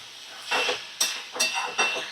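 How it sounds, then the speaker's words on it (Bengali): Stirring a banana stem vegetable dish in a frying pan over medium flame, with several soft scraping, sizzling bursts in an irregular rhythm, close and fairly quiet. "আমি নাড়াচাড়া করে নিচ্ছি"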